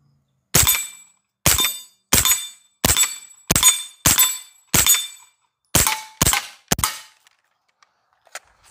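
A suppressed B&T SPC SD 9mm short-barreled rifle fires about ten sharp, cracking shots at a fairly even pace, each followed by a brief ringing tail, loud and close, then a couple of faint clicks at the end.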